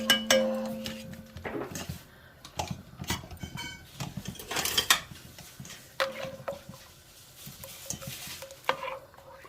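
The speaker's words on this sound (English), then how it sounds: "Now I'm going to fish out any other little bones with a slotted spoon." Slotted spoon scraping and stirring through a pot of braised short ribs to fish out small bones: repeated close metallic clinks and scrapes against the pot in an irregular rhythm, with a faint sizzle underneath.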